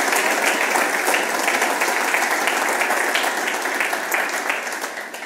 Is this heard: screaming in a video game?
no